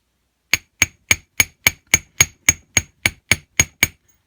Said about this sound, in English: I'm going to go ahead and use the chasing hammer